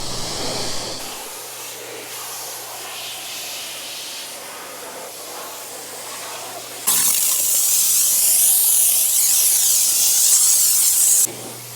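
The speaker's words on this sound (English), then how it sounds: "You can use your pressure washer like a blade." A pressure washer sprays a car, a steady hiss that jumps to a loud, harsh blast for several seconds as the jet hits the surface, then drops back.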